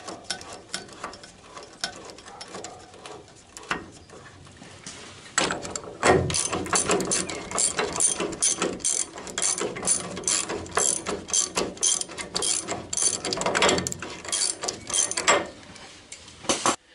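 A ratchet wrench tightens a well-greased 17 mm bolt while reassembling the rear axle of a Citroën Traction 11B, with sparse clicks at first, then rapid, close, repeated ratcheting bursts.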